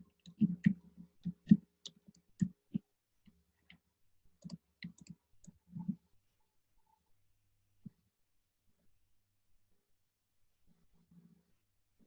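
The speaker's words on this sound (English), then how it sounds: "next we have to click on the login button" Computer mouse clicking on a login button: a rapid burst of close, crisp clicks in quick succession, thinning out to a few isolated clicks and then near silence, with no talking.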